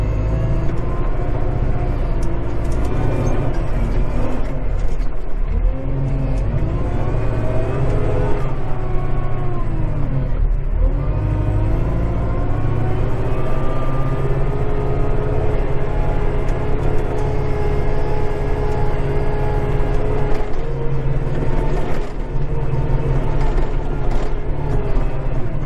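A Kubota 5740 tractor engine running steadily at work, a loud close diesel drone with a constant low rumble, mechanical rattling and slight shifts in pitch throughout, no talking.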